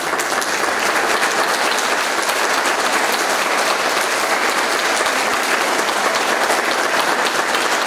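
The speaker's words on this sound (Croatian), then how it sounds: "zamoliti vas da onako toplim pljeskom pozdravimo" Warm, sustained applause from a concert audience honouring an orchestra conductor at a choral-singing anniversary concert in Ludbreg, a thick, even roar of many hands clapping continuously for several seconds.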